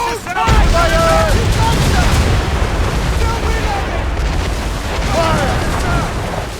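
Naval cannon fire aboard a ship in Assassin's Creed Rogue, loud rolling booms and rumbling blasts, with shouted crew voices heard in the din.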